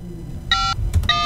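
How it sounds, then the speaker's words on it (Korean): Two bursts of electronic phone-dialing tones in the video game Sleeping Dogs, clean multi-tone beeps separated by a short gap with a couple of brief clicks between them, loud and alone. "탱에게 전화하고."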